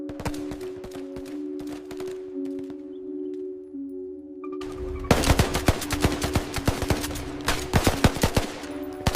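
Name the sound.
bursts of gunfire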